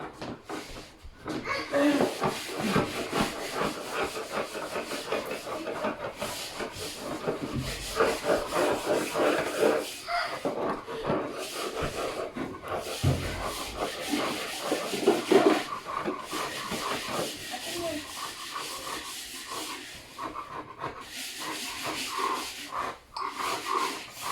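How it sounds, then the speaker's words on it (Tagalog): Scrubbing a dirty indoor floor to lift black stains, a steady close brushing and rubbing that runs almost without pause, with heavy breathing and brief voices mixed in. "Kuskus ang sahig."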